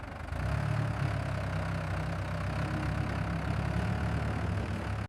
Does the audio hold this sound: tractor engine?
yes